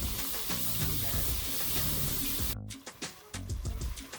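Lobster tail cooking in a hot pan with warm water added to steam it, giving a steady close sizzle and hiss with a brief dropout, then a louder crackling spatter.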